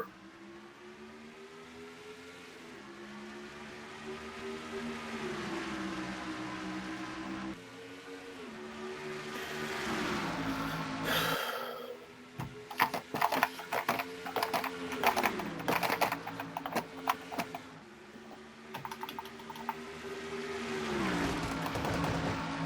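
NASCAR-style race cars at Dover in a racing video game, engine tones droning and rising and falling as they pass, with a busy stretch of clattering, scraping bursts midway before the steady engine pitch returns.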